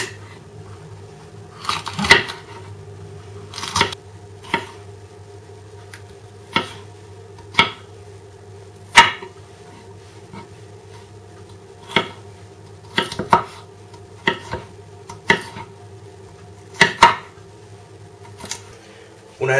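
Knife chopping a washed, seeded green pepper into strips and dice on a board, with irregular sharp close taps in small clusters over a low steady hum.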